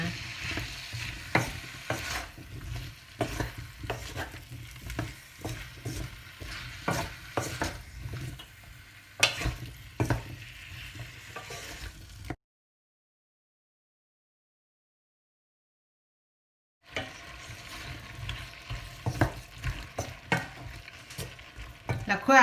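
Pineapple stir-frying in a pan for a chicken pineapple curry: a continuous sizzle with scraping stirring strokes, a stretch of silence in the middle, then the sizzling and stirring start again.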